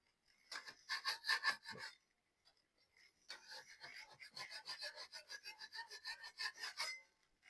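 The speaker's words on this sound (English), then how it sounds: "What I'm doing is I'm smoothing the edges out so it don't have no sharp edges" A rasp scrapes rough drywall edges smooth in quick back-and-forth strokes, a short burst of rasping, a pause, then a longer run of steady strokes, close and fairly quiet.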